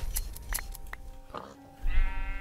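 Several Minecraft sheep bleat in short, close, repeated calls within the game, with a soft in-game clicking and shuffling between them and a louder stretch near the end.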